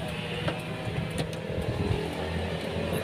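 The engine of a 2007 Toyota Avanza G with manual transmission idles steadily, a close, even mechanical hum and rumble with no voices over it.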